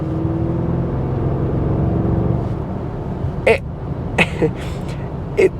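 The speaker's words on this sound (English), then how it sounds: "I'm gonna put in sport engine mode right now and just give it a little bit of beans." An Audi SQ7 three-row SUV in sport engine mode pulls away under throttle, its engine a steady, loud low drone rising slightly, with a few sharp clicks and knocks near the end.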